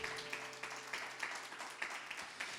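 A church congregation claps together in a steady, rhythmic beat, heard at a moderate distance. The applause is fairly faint, with a little background voice underneath.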